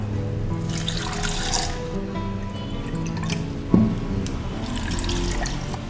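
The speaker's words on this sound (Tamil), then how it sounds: "இப்போ இதில் மெஷர்மெண்ட் கப்பால் 2 கப்பு தண்ணி ஊற்றுறேன்." Two cups of water poured into a mixer jar over chopped banana leaves, a steady trickling pour with a drip and a small clink midway, close and moderately loud, with no talking.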